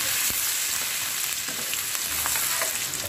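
Onion sizzles in a pan along with soya chunks and beans, a dense, steady frying hiss with light stirring clicks, close by and without speech.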